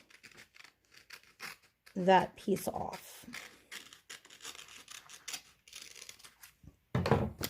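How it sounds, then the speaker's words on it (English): Scissors snip and rasp through paper in a few short close cuts, with a quiet voice speaking between them. "I'm going to use my scissors and I am going to trim"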